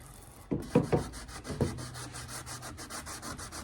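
Rhythmic scratchy rubbing of a sanding block on the rotted cowl of a Chrysler Cordoba, a few sharper knocks at first, then even back-and-forth strokes, close up, no voices.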